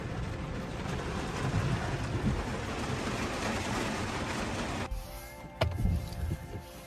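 Heavy rain pours steadily outside a garage, a dense, loud wash of hiss that suddenly drops off near the end, leaving a quieter interior with a few sharp knocks.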